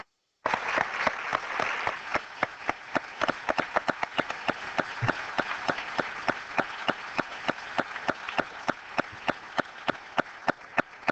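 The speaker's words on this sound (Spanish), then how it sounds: "Despedimos al doctor Lindon con un fuerte aplauso." An audience applauds loudly to close a question session for a guest speaker, Dr. Lindon: dense, steady clapping with sharp individual claps standing out, sustained for about ten seconds with no talking.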